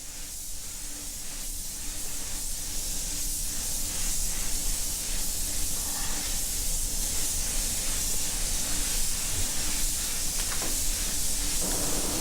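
A spray gun shooting a 50-50 mix of Hot Rod Sparkle Blue and Purple paint during a custom paint job, a steady loud airy hiss that holds evenly throughout.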